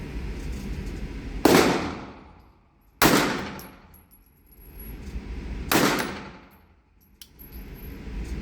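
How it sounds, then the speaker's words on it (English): Three sharp, loud shots from a Dreyse model 1907 pistol being bump fired, each a hard crack with a ringing decay, spaced irregularly about one and a half seconds apart, with faint metallic clinks between. "That was bump firing."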